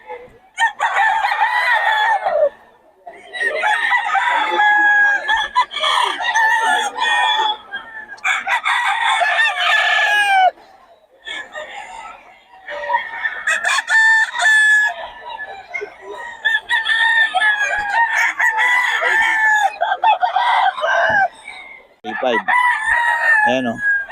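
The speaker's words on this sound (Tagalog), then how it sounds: "Gulo na itong manok na to." Several roosters crow loudly and repeatedly, overlapping one another at close range, with brief clucking in the short gaps between calls.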